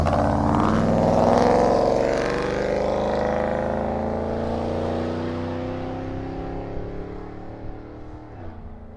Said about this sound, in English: Here comes that big tractor again.